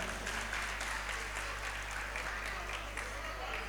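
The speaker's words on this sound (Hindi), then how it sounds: "एक बार इन बच्चों के लिए तालियां बजाइए।" An audience at a Jain religious discourse claps for two children, a dense, even wash of applause heard at a distance over a steady low hum, continuing throughout.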